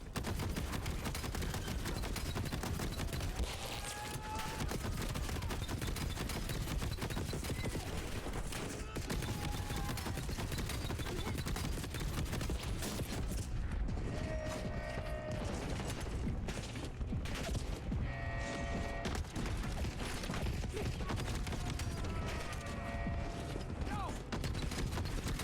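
Sustained automatic gunfire and rapid bursts in the shooter game Black Ops 7 go on for the whole stretch. The shooting is dense and loud, with mechanical clanks, a few short tonal game cues and voices mixed through the action.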